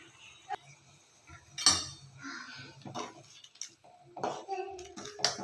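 Spoon clinks and scrapes against a pan as cauliflower is mixed with turmeric and salt for a North Karnataka style palya, in irregular metallic knocks close by, with a voice briefly in the background.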